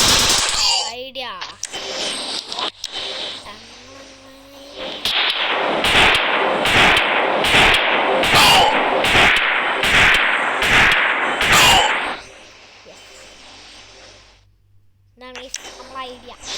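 Rapid bursts of gunfire shooting aliens from a distance in a 3D alien mod video game, a steady run of evenly spaced loud volleys filling the middle stretch, with a voice talking before and after.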